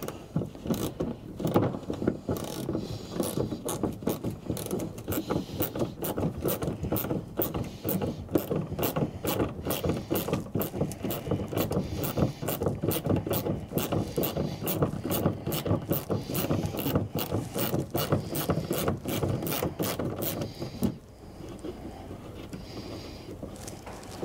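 A ratchet wrench backs out 10 mm bolts on a third-generation Toyota Tacoma during a snorkel install, clicking in rapid, even bursts up close for about twenty seconds before stopping.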